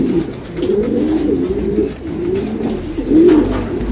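A pigeon coos close by in a soft, low, warbling rhythm, its throaty calls rolling on steadily and swelling slightly louder near the end, with no talking.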